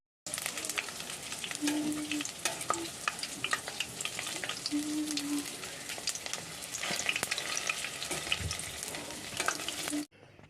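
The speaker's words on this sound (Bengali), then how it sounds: "এই যে পকোড়া ভাজতে শুরু করেছি" Steady crackling sizzle of chicken pakoras deep frying in hot oil, continuous and close, with a few soft clinks and scrapes, no voices.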